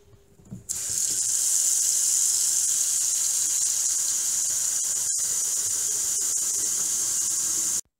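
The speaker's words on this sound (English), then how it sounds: "put some water in a pot for your boiled egg" A tap opens and water runs hard into a pot with a bright, steady rushing hiss for several seconds before cutting off abruptly.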